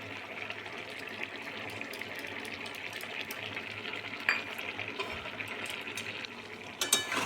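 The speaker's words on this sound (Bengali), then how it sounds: "এটা একটু কষে নেবো ভালো করে" Potato-rice paste with boiled chickpeas is stirred and fried in a pan, giving a soft steady sizzle with faint scraping and a few light clinks of the spoon near the end.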